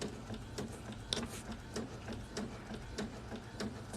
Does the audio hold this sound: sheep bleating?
no